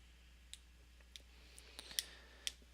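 A computer mouse gives a handful of sharp, faint clicks at irregular intervals against a quiet background hum.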